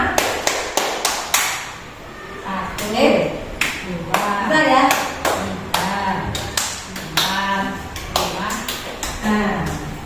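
Hand clapping in a counted rhythm exercise, single sharp claps spaced out and repeated in groups while a voice speaks and counts between them.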